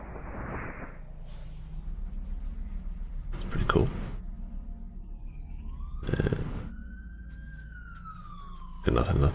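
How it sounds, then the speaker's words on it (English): An ambulance siren wails steadily over several seconds, its tone sweeping as it draws nearer, mixed with loud bursts of rumbling noise. "Well, here comes the ambulance."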